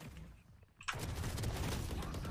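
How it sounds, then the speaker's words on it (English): Dense gunfire bursts in a video game erupt after a brief lull, loud and continuous with heavy low booms, consistent with machine gun fire. "Machine gun. I don't like machine gun."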